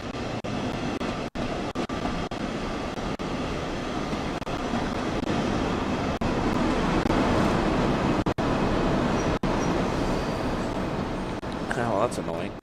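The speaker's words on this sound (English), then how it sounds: "Oh, that train's moving." A train rolls past in the Train Sim World simulator on the Ruhr-Sieg Nord route, a steady rumbling wash of rail noise with faint clicks, while someone talks over it.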